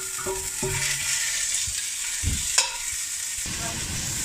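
Beef pieces browning in a hot pan for a spicy beef casserole, a steady close sizzle with a few soft stirring scrapes and clinks, one sharper knock near the middle.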